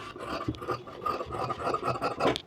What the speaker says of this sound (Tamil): இதை 2 கையில் ஜாயின் பண்ணிட்டு வந்துட்டு இதை வெட்டி எடுத்துக்கலாம்.